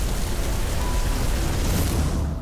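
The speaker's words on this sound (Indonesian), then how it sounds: "Badai datang, menghantam rumah-rumah." Heavy storm rain pours steadily across the whole stretch, a dense broadband roar with low thunder rumble underneath, loud and continuous with no voices.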